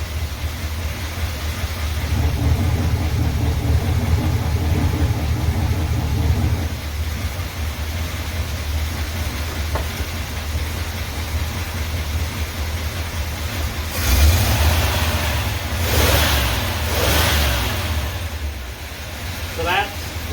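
Car engine with remote-controlled exhaust cutouts closed, running at a steady, muffled drone for several seconds, then a few short, loud revs near the end.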